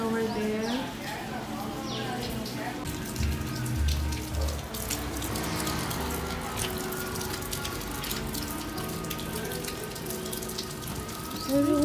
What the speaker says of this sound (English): Okay, raindrops are falling.